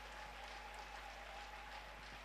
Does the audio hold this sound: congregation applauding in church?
yes